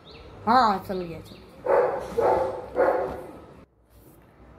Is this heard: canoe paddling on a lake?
no